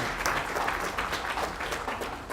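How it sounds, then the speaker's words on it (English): Audience applause at a tech startup demo night, dense and steady clapping from a room crowd for a couple of seconds with no speech over it. "Round of applause for FlexAI."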